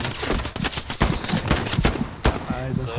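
Rapid bursts of machine-gun fire in the World War II shooter Hell Let Loose, loud and sustained, with sharp repeated shots over a steady background of gunfire.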